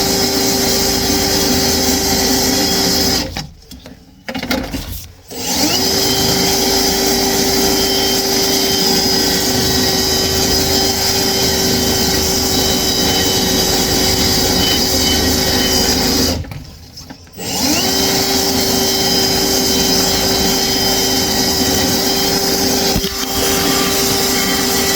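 A Gator 6mm flexshaft drain cleaning machine runs on its first use with a steady motor whine and a constant tonal hum, cutting out twice briefly before spinning back up, no talking.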